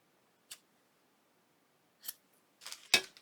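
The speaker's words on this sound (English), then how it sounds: "Just let me cut a little piece off and see. Those little scissors." Small scissors snip a piece of thread: a few sharp, isolated clicks near the microphone, with quiet pauses in between and the last snips coming in a quick cluster.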